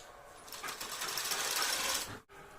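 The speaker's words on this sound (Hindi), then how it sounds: "ऐसे रखें इन नोक पर, और पैर की सिलाई दें।" A sewing machine stitching a bra runs in a fast, continuous mechanical rattle for about two seconds, close and loud, then stops abruptly with a brief quieter whir after.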